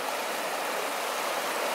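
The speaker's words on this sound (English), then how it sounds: "The river's flowing now with all that rain." A river running high after heavy rain in backwoods camping country, giving a steady, loud rush of flowing water with no break and no voices.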